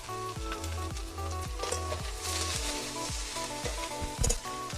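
Okra sautéing in a pan over a wood-fired clay stove, sizzling steadily and close up, with regular stirring scrapes that sound in an even rhythm throughout.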